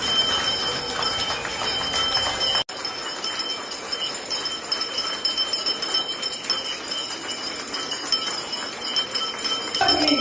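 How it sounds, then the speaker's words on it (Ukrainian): The school's first bell rings for Day of Knowledge in Kharkiv, a continuous bright ringing that goes on for several seconds, loud and fairly near, with a brief break partway through. "Перший дзвоник у місті Героїв Харкові!"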